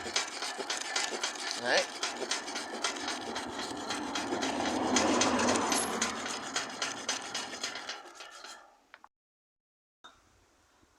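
A rusty metal gate, corroded by salty sea air, is rubbed down by hand before an epoxy hole repair. Rhythmic scraping strokes run for about eight seconds, a brief spoken word cuts in, and then it goes quiet.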